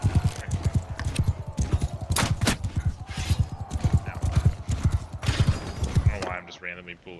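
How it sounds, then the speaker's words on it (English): Horse hooves clip-clop rapidly and repeatedly in a video game, a steady galloping rhythm with a few sharp bangs mixed in and a whinny-like tone near the end. "Randomly pulling this dude's horse"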